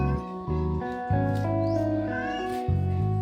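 An asthmatic pet cat that has just recovered from illness meows repeatedly at close range, giving several drawn-out, plaintive, harmonic-rich calls in quick succession.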